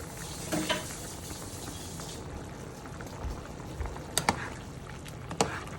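A pot of sopa simmers quietly with a soft, low bubbling. A few faint spoon scrapes and clinks come as it is stirred, and no one talks.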